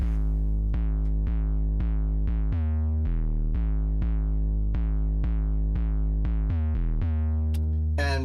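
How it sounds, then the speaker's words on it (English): An 808 bass from the Sublab Depth Charge preset plays a repeating pattern of punchy, booming notes with long decaying tails and some slides. The notes are loud and close, with no talking. "we got to put an 808 on it real fast because it needs something punchy and loud"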